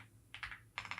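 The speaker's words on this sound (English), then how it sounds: "Oh, typing is not it today." Fingers type on a computer keyboard in two quick bursts of close, crisp key clicks separated by a short pause, quiet and with no talking.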